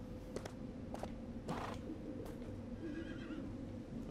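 A horse neighs in the LEGO Worlds video game, with a few short whinnies heard faintly over a steady low game ambience and some light clip-clop sounds.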